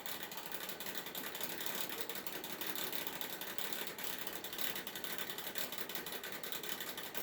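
A locking clamp on the exhaust pipe of a 2008 Pontiac G6 is cranked tight with a ratchet, giving a fast, continuous clicking rattle that stays steady and fairly loud throughout.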